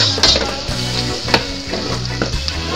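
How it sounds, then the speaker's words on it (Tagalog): Hotdog slices sauté with garlic and onion in a pan, giving a steady, close sizzle and frying crackle broken by scraping stirring strokes. "pag nigis na natin yung bawang sibuyas lagay na natin yung hotdog so, pwede natin siyang mix"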